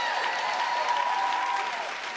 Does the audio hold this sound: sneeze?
no